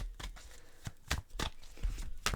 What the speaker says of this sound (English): Let's give them a little shuffle.